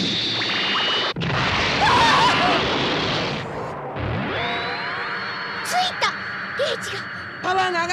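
Anime beam weapon fires and strikes its target, a burst of crashing energy followed by a rising sweep and sharp bright zaps, with dramatic music and background voices running throughout.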